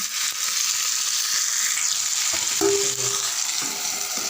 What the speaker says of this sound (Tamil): ஒரு 5 நிமிஷம் நல்லா தக்காளி வதங்கிடும்.